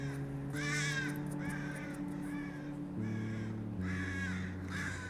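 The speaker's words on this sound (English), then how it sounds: "Do you guys hear the crows? Crows are awake." Several crows caw outdoors in separate bursts of repeated harsh calls, moderately distant and fairly quiet against a steady low hum.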